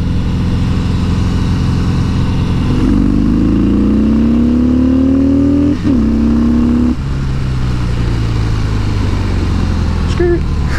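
A 2017 Harley-Davidson CVO Breakout motorcycle engine revs up through rising tones, shifts, then climbs again, loud and close, with a steady drone throughout.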